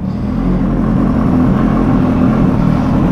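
A 2015 Kawasaki H2 supercharged motorcycle with an H2R exhaust runs with a dense, steady engine drone and whir, loud and close, with no talking over it.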